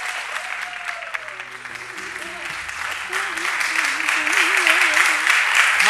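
Sustained applause from a large studio audience welcoming a singer on a Turkish TV show, steady and building slightly louder toward the end, with a faint musical tone running underneath.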